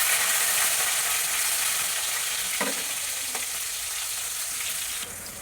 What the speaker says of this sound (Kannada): ನೋಡಿ ಒಣ ಮೆಣಸಿನ್ಕಾಯಿ ಹಾಕೋತಾ ಇದ್ದೀನಿ